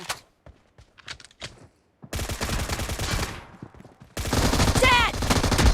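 Suppressed Beryl M762 assault rifle fire in PUBG Mobile team deathmatch comes in two sustained automatic bursts, loud and dense, separated by a few quieter single shots and game effects.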